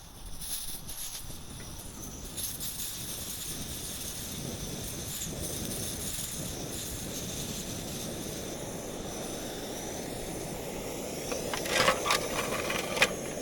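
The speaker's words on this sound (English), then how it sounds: "open the gas valve a half of a turn and wait for a blue flame to appear on the burner" A liquid fuel backpacking stove burns steadily after priming, giving a continuous low roar and hiss close by. It stays fairly even throughout, with a few faint clicks and taps near the end.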